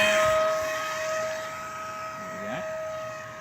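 A homemade RC model airplane flies overhead, its small electric motor giving a steady whine with a rising pass near the end, under some background noise.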